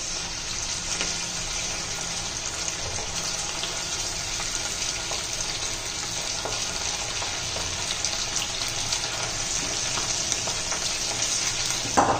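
Chicken pieces for chicken chilli fry in a hot pan with oil, giving a loud, steady, continuous sizzle that runs unbroken throughout with no voices.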